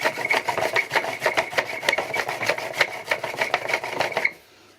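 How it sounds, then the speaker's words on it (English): A homemade washing machine generator wheel spins by hand with loud, rhythmic creaking and rubbing pulses in quick succession, heard close up, before stopping abruptly into near silence. "this wheel just sort of spins. It's very loud and creaky"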